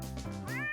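A cat meows once in an anime scene, a short, clear rising call at close range with no talk over it.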